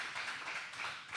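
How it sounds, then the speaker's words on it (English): A seminar audience clapping for a guest speaker, a soft, fairly distant patter of applause that rises and dips in waves throughout. "Can we give John a round of applause,"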